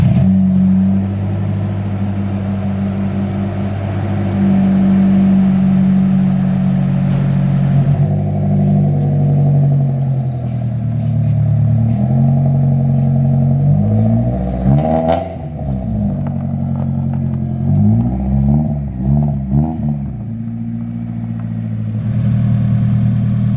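A Nissan 240SX with an SR engine swap idles loudly close by, then revs repeatedly in short rising and falling bursts over a steady, slightly clattering idle.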